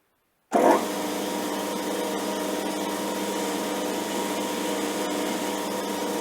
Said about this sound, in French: Donc on va faire un petit chanfrein au bout là.